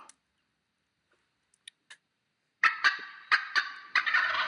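Wild turkey gobbles in a rapid series of loud, rattling bursts after a few faint clicks, each call ringing out clearly with a short echo tail and no voices over it.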